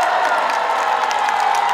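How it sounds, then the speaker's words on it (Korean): A crowd applauds and cheers steadily for Kim Hee-jae's fan club at the outdoor stage of the Jangseong Hwangryonggang autumn flower festival, a dense, continuous wash of clapping and whoops. "박수 한번 부탁드립니다"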